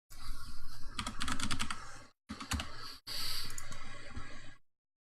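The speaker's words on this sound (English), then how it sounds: "you can hear me typing as well." Quick, steady clicking of typing on a computer keyboard close by, in two long runs with a brief pause between them and no talking.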